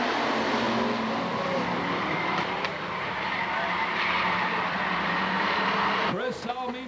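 Bomber-class stock cars race nose to tail around a speedway oval, a continuous loud roar of engines with tire noise throughout, a track announcer talking over it, and a sharp skidding squeal near the end.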